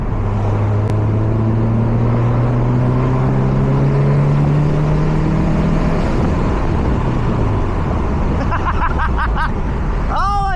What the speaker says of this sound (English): I'm tuning this car in fucking boost right now.